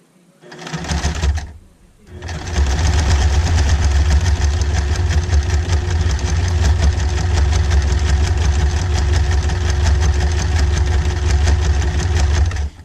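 Sewing machine stitching slowly through a baby bib, a steady loud mechanical whir running continuously after a brief start and short pause, close and alone.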